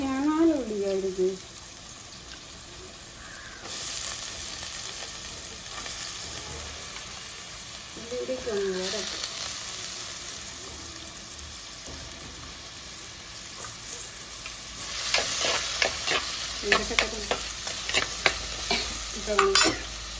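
Small onions, curry leaves and cumin fry in a pan with a steady bright sizzle. Scraping stirs become more frequent and louder toward the end, and a voice speaks briefly near the start and middle.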